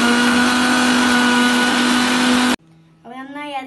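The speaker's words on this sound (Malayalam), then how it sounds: "അടുത്തായിട്ട് 2 പച്ചമുളക് ഇതിലേക്ക് ഇട്ട് കൊടുക്കുക, എന്നിട്ട് നന്നായിട്ട് ഒന്ന് അരച്ചെടുക്കണം." A blender grinding lemon and green chillies runs loud and steady at close range, then cuts off abruptly, after which a person starts speaking.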